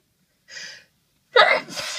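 One close sneeze: a short inhaled gasp, a pause, then a loud explosive burst with a breathy tail.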